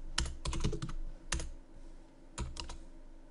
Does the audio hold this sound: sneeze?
no